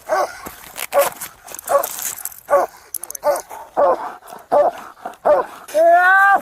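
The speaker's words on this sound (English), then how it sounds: "Get the dog off me!" A police dog barks and yelps repeatedly and loudly during an arrest, in a rapid series of sharp barks that ends in a drawn-out whine, while people shout over it.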